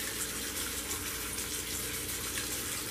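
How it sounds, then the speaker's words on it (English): Cold tap water pours steadily over freshly cooked spaghetti in a colander, a loud continuous gushing rush lasting the whole stretch with no talking. "Swish it around so the cold water can get to it."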